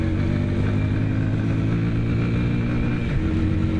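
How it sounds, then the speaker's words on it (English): A Yamaha Virago 250 V-twin cruiser motorcycle riding at about 60 km/h, its engine a loud, steady, smooth drone close by with constant wind rush. "Bike's riding well, we're up to 60 kilometers an hour. It's a V-twin"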